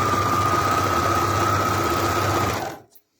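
An overlocker sewing machine runs fast and steady over fabric, a loud close mechanical whir for nearly three seconds before it abruptly stops into silence.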